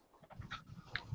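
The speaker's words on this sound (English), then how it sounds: "introduce us to the puppy, man" A puppy pants softly and quickly at close range, a faint breathy rhythm with a small whimpering tone, otherwise quiet.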